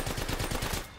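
Rapid automatic gunfire in Apex Legends, a steady burst of close, loud shots lasting about a second before cutting off.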